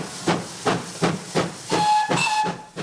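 Steam locomotive 5619, in its 100th year, chuffs in a steady rhythm of hissing bursts. A shrill steam whistle then sounds over the hiss, loud and close.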